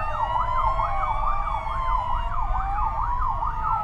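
Emergency vehicle sirens wail through the streets of Córdoba, a loud, rapid up-and-down yelp that repeats steadily over a low rumble of traffic.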